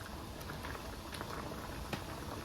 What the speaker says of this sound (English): we're gonna let it boil a little